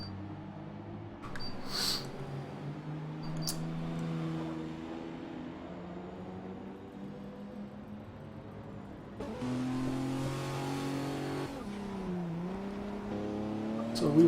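GT race cars on a warm-up lap at Circuit of the Americas drone steadily, with engine pitch rising and dipping and growing louder toward the end, under continuous race commentary.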